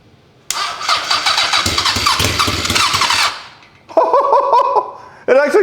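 A rebuilt Honda CB750 motorcycle engine cranks on its first start attempt: loud, close starter churning for about three seconds, then two shorter cranking bursts.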